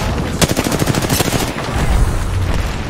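Rapid bursts of incoming gunfire crackle in a video game, dense and loud, with repeated automatic fire over the first part and then rumbling impacts afterward.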